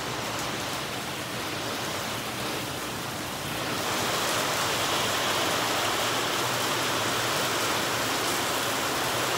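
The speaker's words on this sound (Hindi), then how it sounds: "बारिश कितनी तेज आ रही है, कितनी तेज हो गई है बारिश" Heavy rain pouring down, a loud, dense, steady roar of water that swells even stronger partway through and continues without pause.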